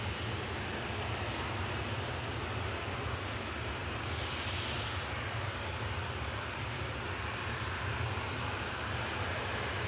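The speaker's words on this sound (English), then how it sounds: "GTAWM headed across to Menorca with flight 2656, 737-800" Boeing 737-800 departing Manchester Airport for Menorca, a loud, continuous jet engine roar with strong low rumble that stays steady throughout, close and dominant with no voices.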